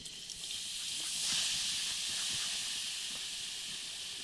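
Water splashed onto a hot clay lid covering chitoi pitha on a clay pan sizzles and hisses steadily, a soft continuous steamy hiss with faint crackles underneath.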